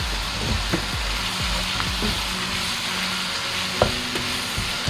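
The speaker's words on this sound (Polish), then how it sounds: "Oczywiście mieszamy." Sauce frying in a pan with sugar added, sizzling steadily while a utensil stirs and scrapes through it in irregular strokes with occasional clinks.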